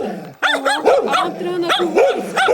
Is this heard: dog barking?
yes